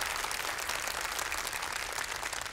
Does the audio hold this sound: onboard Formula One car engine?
no